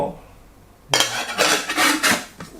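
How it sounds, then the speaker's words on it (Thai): Metal clatters and clanks as the lid is fitted onto a pot from a Kathmandu Ascent Camp 4-piece camping cookset. It starts after a quiet pause with a sharp clack, then comes a run of close, rattling scrapes and knocks. "ปิดฝาหม้อ"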